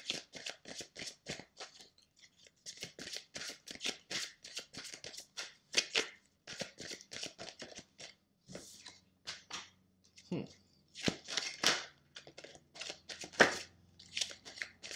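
Tarot cards are shuffled and drawn by hand, giving close, quick papery flicks and riffles in irregular bursts, with a person talking softly in between.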